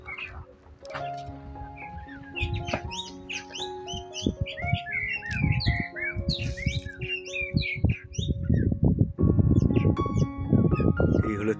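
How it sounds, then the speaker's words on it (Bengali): Many birds chirp and call in quick overlapping phrases around a hill village in Tinchuley near Darjeeling, with a steady low murmur underneath that grows louder toward the end. "শুনতে পাচ্ছেন পাখিদের ডাকগুলো?"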